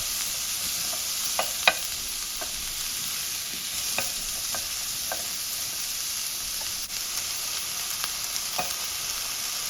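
Red onion sautés in a few tablespoons of oil, giving an even, bright sizzle throughout with scattered light ticks and pops.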